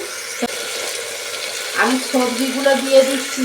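Chicken frying in a pan gives a steady sizzle; midway, washed vegetables go in, and the sound changes to a wetter, bubbling hiss with soft tonal squeaks.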